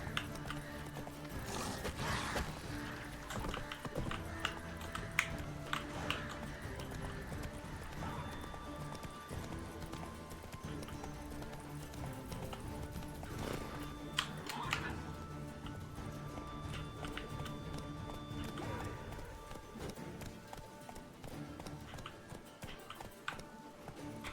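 Hooves of Roach, the horse in The Witcher 3: Wild Hunt, beating in a steady galloping clip-clop that runs for the whole stretch, with tack jingling, a few neighs and background game music, plus occasional muttered speech.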